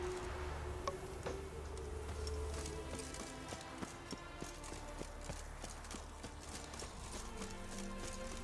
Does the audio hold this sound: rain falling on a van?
no